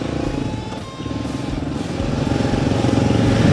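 Kawasaki KLR motorcycle engine chugging and building steadily while riding, close and loud, with some wind and clatter and no talk.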